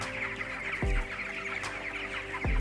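Twenty-two-day-old broiler chickens cluck and chatter continuously in a poultry house, with a couple of sharper calls standing out over the dense flock murmur.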